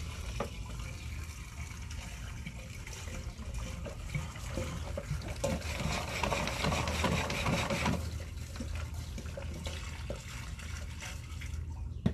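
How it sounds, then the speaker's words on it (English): Water runs down a clean 4-inch PVC sewer line: a steady, continuous wash and trickle with a faint gurgle, filling the whole stretch without letup and without voices. "Get some water running down the line here in just a moment."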